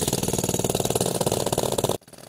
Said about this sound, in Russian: Звук перфораторов, тяжелая техника и груда строительного мусора.